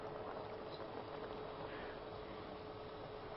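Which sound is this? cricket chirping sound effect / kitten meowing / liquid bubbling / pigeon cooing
liquid bubbling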